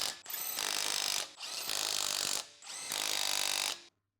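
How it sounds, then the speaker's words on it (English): A large electric impact wrench with a 21 mm deep socket drives lug screws tight on a Ford F-150 during a steering rack job, three loud buzzing bursts of about a second each with short gaps between. "impact wrench to tighten them."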